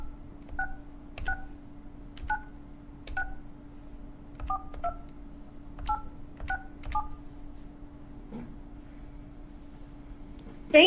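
Touch-tone dialing to a web hosting support line, a series of about a dozen short dual-pitch beeps in an uneven rhythm over a faint steady hum, close and clear, with no talk.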